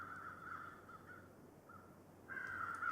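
Crows cawing in the survival game The Long Dark, a flock calling in repeated harsh caws at moderate distance, broken by brief pauses and swelling louder near the end over a quiet outdoor hush.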